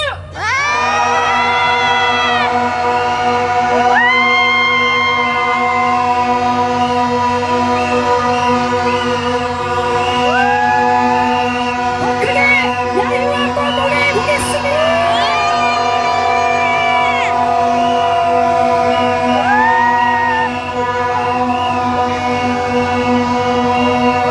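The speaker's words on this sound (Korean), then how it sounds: "자, 그러면 함성과 함께 줄을 당겨주십시오." A crowd at a Korean candlelight rally shouts and cheers as a rope is pulled to unveil a renamed signboard, with sustained whoops and rising yells over a loud, dense hubbub that carries throughout.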